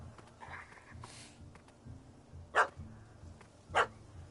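A dog barks in The Witcher 3 game, two sharp separate barks about a second apart over low ambient game sound and faint background noise.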